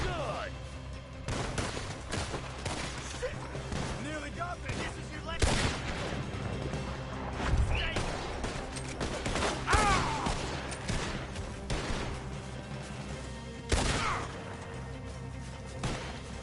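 Scattered gunshots ring out in Red Dead Redemption 2, a few sharp reports spaced several seconds apart over a busy game soundscape, with someone talking in between.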